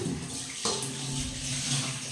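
A tap runs steadily while dishes are washed in a home kitchen, a close, continuous splash of water with a brief clatter partway through and no talking.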